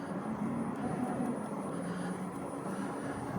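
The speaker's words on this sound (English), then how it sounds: "I feel like I'm riding an electric bike" A Harley-Davidson LiveWire electric motorcycle being ridden gives a steady, smooth electric whine over rushing wind and road noise, holding an even level throughout with no engine pulses and no voices.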